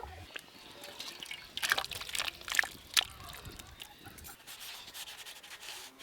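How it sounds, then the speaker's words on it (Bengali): Cooked katla fish do-pyaza is poured and scraped out of the pan, with soft liquid sloshing and a few sharp scrapes in the middle, all fairly quiet. "এবার ঢেলে নেব।"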